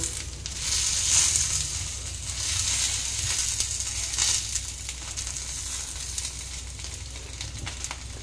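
Paneer paturi wrapped in banana leaf frying in a pan on a gas stove, a steady low sizzle with crackling bursts and some rustling as the parcels shift, close and continuous throughout with no talking.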